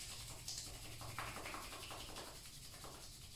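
Palms rubbing together during a Kundalini yoga meditation, a soft, continuous dry swishing friction sound, quiet and close, with no talking.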